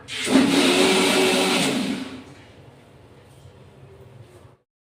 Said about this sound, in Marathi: याची आपण आता मिक्सरला लावली बघा